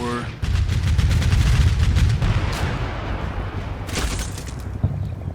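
An RPK-74 machine gun firing in the wartime strategy game Combat Mission, a dense, loud roar of rapid bursts and booming reports that keeps up throughout, with sharper cracks near the end and no talk.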